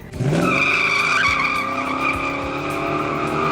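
Loud, sustained tire squeal from a 420-horsepower Elco with a Gearstar 4L60E transmission and Yank converter doing a one-wheel peel, a steady screech over engine roar lasting several seconds.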